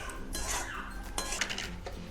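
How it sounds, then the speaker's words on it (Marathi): Dry semolina being added and stirred in a metal pan while roasted for upma, with scraping and clinking of a spoon against the pan that rises in two louder bursts. "आता त्याच्यामध्ये रवा टाकूया। रवा पण छान भाजून घ्यायचा आहे।"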